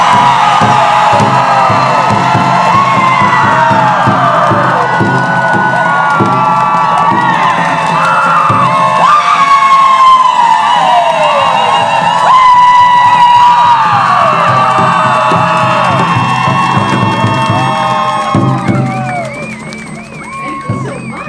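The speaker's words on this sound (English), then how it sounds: "I want you to scream as loud as you can" A large outdoor crowd at an Orange Shirt Day event for Truth and Reconciliation screams and cheers loudly and continuously, with children's shouts and whoops mixed in, fading slightly at the end.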